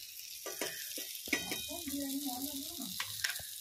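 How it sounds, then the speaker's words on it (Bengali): Chopped ginger and turmeric stirred in a hot frying pan give a low sizzle with a few scraping strokes, partly under a person talking nearby. "আদা কুচিটা দাও, হ্যাঁ দিয়ে হলুদটা নাড়িয়ে দাও।"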